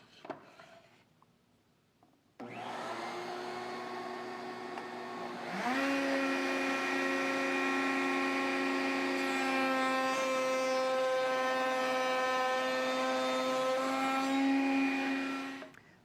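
A wood router spins up after a brief quiet start, then its high whine deepens and steadies as it cuts a test piece of wood guided by a miter gauge, holding a loud, continuous tone before easing off at the end.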